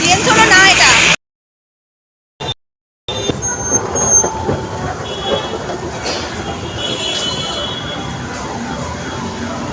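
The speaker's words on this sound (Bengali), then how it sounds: "দেখো ট্রেন চলো না এটা।" A train runs with a steady rolling rumble and rattle, heard close up after a brief cut, with a faint higher squeal of wheels and people talking nearby over the noise.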